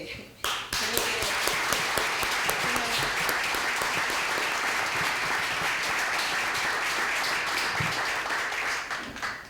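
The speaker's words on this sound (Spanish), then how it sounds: "le dedico un aplauso en memoria a ella" Sustained applause from an audience at a heritage lecture in Agüimes, offered in memory of a woman, a dense, even patter of many hands that starts abruptly and holds steadily to the end with no voices.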